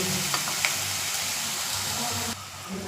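Sliced onions with salt sauté gently in a pan on low heat, giving a soft, continuous sizzle and hiss with a couple of faint clicks, quiet and steady throughout.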